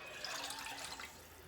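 Water is poured steadily into a pot of brisket birria consomme, a soft continuous splashing stream heard faintly and alone.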